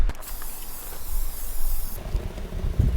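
Label remover spray hissing from an aerosol can, a steady close hiss lasting about two seconds before it cuts off, followed by scattered handling knocks.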